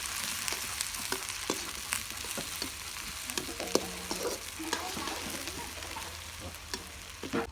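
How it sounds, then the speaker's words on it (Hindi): Onions frying in a pan until browned for a Chhattisgarhi goat curry, a steady soft sizzle with scattered crackles and the clink of stirring, no voices. "प्याज बढ़िया से लाल बहुत में भून दो"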